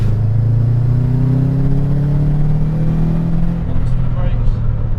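Subaru Impreza WRX STI engine pulling hard down a straight on a track, a loud steady drone rising slowly in pitch as it accelerates, close and continuous, with brief voices near the end.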